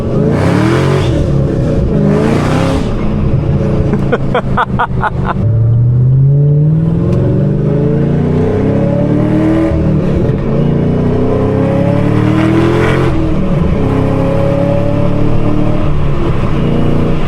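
A loud 650-horsepower Camaro ZL1 engine revs and accelerates repeatedly, rising in pitch through the gears with roaring bursts and shifts, heard close from inside.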